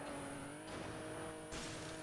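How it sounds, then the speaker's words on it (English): A continuous engine drone of Roblox Car Crushers 2 game cars with a shift in pitch partway through, like a car motor revving and settling, with no speech. "The engines make a bit of noise."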